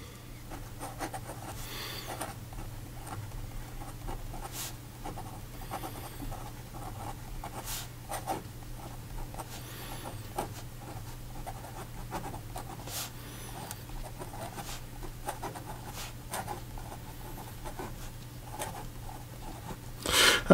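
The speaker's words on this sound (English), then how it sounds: "I don't know if you could hear that, but this extra fine nib does have a little bit more tooth to it." An extra fine Pilot Elite E95S fountain pen nib scratches across paper up close, giving a faint, steady run of soft strokes over a low background hum.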